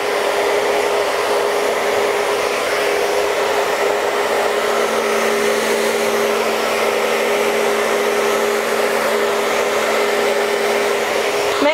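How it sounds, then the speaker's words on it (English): A hair dryer fitted with a diffuser blows continuously while hair is scrunch dried from the roots. It makes a loud, steady whirring hum with no breaks and no talking. "place the hair into the diffuser and working at the roots"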